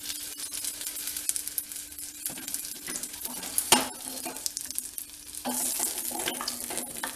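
Raw mango pieces sautéing in a pan, a continuous soft sizzle with a faint steady hum and intermittent spatula scrapes and clicks against the metal, one sharper knock midway.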